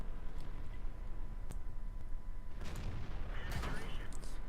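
Artillery fire in World of Tanks sounds as a couple of sharp cracks followed by a louder, rumbling impact blast near the end, over steady engine hum, with no clear speech.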